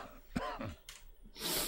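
A creature character in the Dreamcast game Seaman coughs and clears its throat in a few rough, close bursts, then lets out a breathy exhale, with no talking over it.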